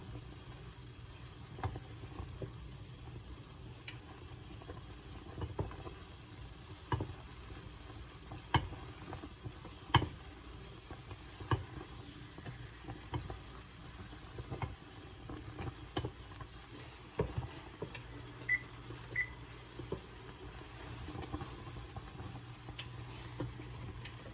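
Grape juice heating in a pot toward a hard boil for jelly: quiet, scattered pops and crackles over a faint bubbling hiss, irregular and soft, with no one talking.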